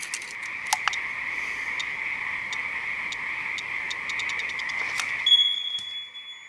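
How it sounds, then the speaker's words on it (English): A dense chorus of frogs croaking in the dark at an outdoor range, steady and continuous throughout. Near the end a thin high electronic tone cuts in above the calls. "There's frogs."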